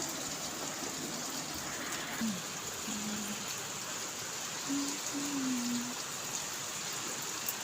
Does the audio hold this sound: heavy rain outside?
yes